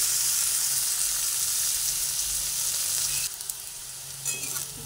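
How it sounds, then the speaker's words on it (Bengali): Bitter gourd fries in oil with turmeric, giving a loud, steady close sizzle that drops suddenly partway through, then continues more softly with a few stirring sounds and no speech. "আমি প্রথমে হলুদ দিয়ে উচ্ছেটাকে লাল লাল করে ভেজে নিচ্ছি।"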